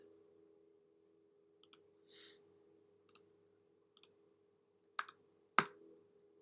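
Buttons on a calculator are pressed one at a time, a sparse series of about six crisp plastic clicks over a steady low electrical hum, the last two presses louder.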